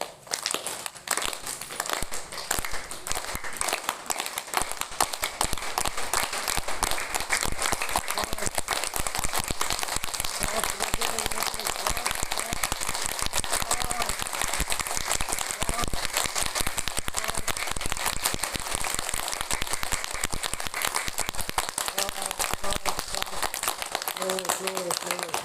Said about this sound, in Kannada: ಚಪ್ಪಾಳೆ ಹೊಡೆದು ಕೈಗಳನ್ನು ಕೆಂಪಾಗಿರ್ಬೇಕು